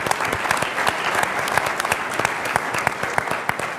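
An audience at a Chilean science-policy panel discussion applauds a panelist with dense, steady clapping that carries evenly from start to finish, with sharper individual claps popping out of the wash.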